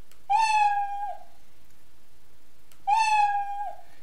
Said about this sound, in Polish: Kotek wydaje dźwięk,